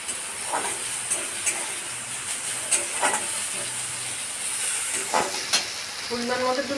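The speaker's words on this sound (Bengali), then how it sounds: "একটু পেঁয়াজটা ভেজে নেব এর মধ্যে লঙ্কা কুচি দিয়ে দেবো" Sliced onion and chopped green chili frying in a pan, a steady close sizzle broken by a few scraping stirs of a spoon.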